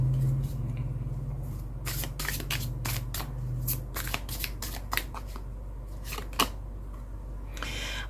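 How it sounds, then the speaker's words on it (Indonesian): Tarot cards shuffled by hand, a series of quick, crisp riffling bursts in irregular clusters, fairly close and distinct over a low background hum, with no talk. "Kita akan coba shuffle."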